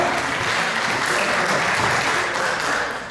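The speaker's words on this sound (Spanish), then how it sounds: "quiero que la reciban con un fuerte voto de aplausos" A hall audience at a training course on administrative management claps in a dense, sustained wave to welcome a speaker, a loud, even wash of many hands with no voices over it.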